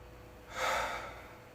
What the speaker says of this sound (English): in through the nose and out through the mouth